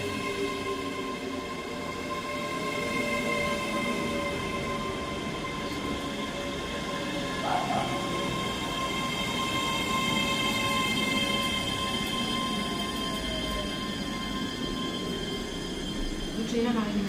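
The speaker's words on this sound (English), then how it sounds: "Arriving in now is the 11:08 Scotrail service from Edinburgh Waverley" A ScotRail train running into the platform at Edinburgh Haymarket, heard from the platform: a low rolling rumble with steady tonal whine and a brief squeal of wheels, moderately loud and sustained, with a station announcement over it.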